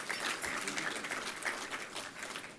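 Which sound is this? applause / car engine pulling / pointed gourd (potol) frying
applause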